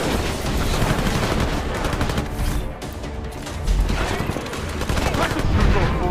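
Rapid gunfire bursts crackle through a firefight in the stealth-action video game Deus Ex: Mankind Divided, loud and dense with brief lulls and heavy impacts, no voices.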